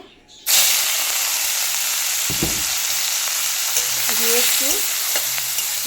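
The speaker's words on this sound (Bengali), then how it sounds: "কড়াই তেল গরম হয়ে গেছে এবার আমি চিংড়ি মাছ নুন হলুদ মাখিয়ে রেখেছি দিয়ে দেবো" Prawns coated in salt and turmeric hit hot oil in a kadai and burst into a loud, hissing sizzle that holds steady, with a few stirring knocks and a brief spoken word underneath.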